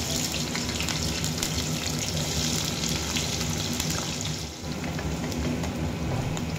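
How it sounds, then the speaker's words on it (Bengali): Onions fry in hot oil in a wok for birista, giving a loud, dense, continuous close sizzle that dips briefly once before carrying on steadily. "এখন আমি এই পেঁয়াজগুলোকে ভেজে নেব"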